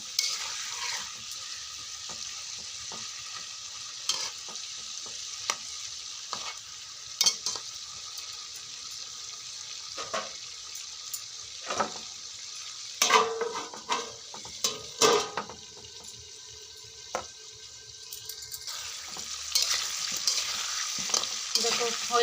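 Potatoes fry in a pan with turmeric, a steady close sizzle with repeated scraping stirs and clinks of a utensil against the pan throughout, briefly louder in bursts.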